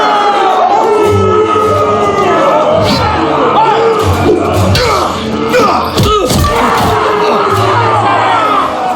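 A loud arena crowd in a Game of Thrones video game roars and cheers continuously, dense shouting voices filling the space with swells of excitement throughout.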